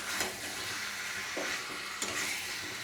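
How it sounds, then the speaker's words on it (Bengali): Chicken with potato and young jackfruit stir-fries in a pan, a quiet steady sizzle punctuated by a few spatula scrapes and taps; faint, close, and free of speech. "এবার আলু আর ইঁচড়টা দিয়ে আর একটু ভালো করে কষিয়ে নেব"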